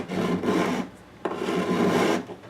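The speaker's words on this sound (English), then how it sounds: "There's not much resistance to that file because I've brought those tolerances so close. It just glides along there." Metal file rasping along the frets of a Larrivee guitar during a partial re-fret, two smooth, close strokes with a short pause between them.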